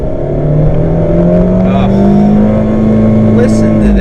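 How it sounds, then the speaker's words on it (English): A 2017 Fiat 124 Spider sports car engine growls steadily with a rising revving tone, loud and close, with speech faintly mixed in. "rev that engine up, that Italian growling engine"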